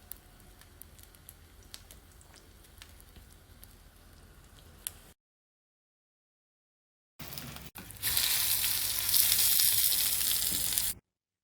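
Rice chapli kebabs frying in a pan: faint crackling and ticking at first, then a gap of silence before a much louder, dense sizzle returns and holds steady for several seconds.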